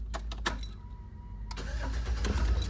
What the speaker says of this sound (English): I'm going to start the bus.